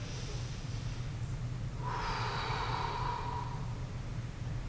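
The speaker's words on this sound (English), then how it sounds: "One more exhale." A long, slow breath out during a full-body mobility stretch, a soft airy exhale near the microphone rising and fading over a low steady background hum.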